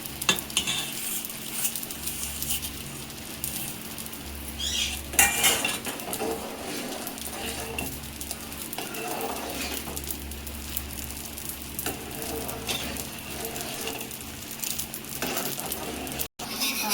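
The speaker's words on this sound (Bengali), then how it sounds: "এদিকে দুধটা ফুটে উঠেছে, এবার সিমাইটা দিয়ে দেবো।" Vermicelli being stirred into boiling milk in a metal pot, with steady scraping and clinking of a spoon against the pan over a low bubbling simmer, close and moderately loud, no talking.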